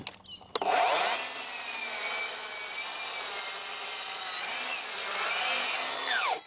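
A saw cuts through several stacked wooden fence boards at once, a loud, sustained rasping that starts after a brief knock and runs steadily for about five seconds before stopping.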